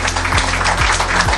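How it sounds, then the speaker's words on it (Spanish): An audience applauds the Molymex team at an environmental excellence award ceremony, a continuous patter of clapping hands heard over a low steady hum and a recurring low-pitched sweep. "un fuerte aplauso, por favor"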